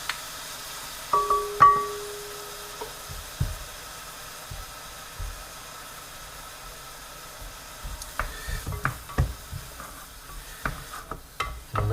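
Garlic dropped into a pan with onions for a basic tomato sauce, a faint steady sizzle broken by scraping stirs and clinks of a utensil, busier toward the end.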